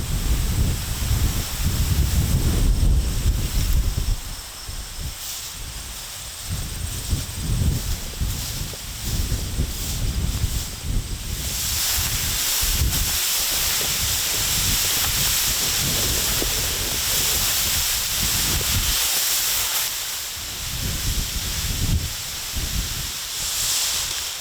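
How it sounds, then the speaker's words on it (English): Strong wind on open South Dakota grasslands buffets and roars against the microphone in loud gusts, with a constant rushing hiss filling the background. "It's super windy"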